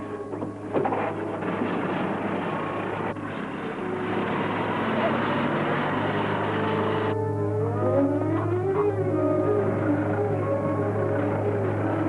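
A truck engine from a 1950s Western runs steadily with a low, constant hum throughout, with voices talking over it.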